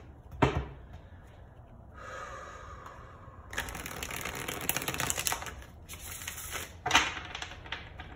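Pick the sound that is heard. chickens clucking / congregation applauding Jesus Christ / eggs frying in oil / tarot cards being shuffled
tarot cards being shuffled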